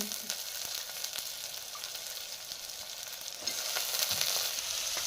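Carrots, potatoes and peas fry in a pan with a continuous crackling sizzle and light stirring scrapes, growing a little louder toward the end, with no voices.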